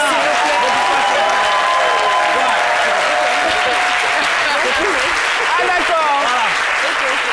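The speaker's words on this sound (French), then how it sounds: "Merci d'applaudir Mélie Tiako, s'il vous plaît." Audience applause fills a studio during a French talk show honoring a model, steady dense clapping throughout with a voice speaking over it.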